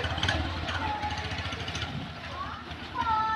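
A Honda CB 125 motorcycle engine starts and runs with a rough, rapid idle chatter, fairly close and steady, with people talking over it.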